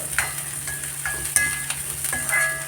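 Vegetables for a vegetable kurma sauté in a pan with a little salt, a soft steady sizzle broken by several clicking scrapes of a spoon stirring against the pan.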